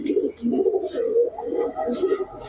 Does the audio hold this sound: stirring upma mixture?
no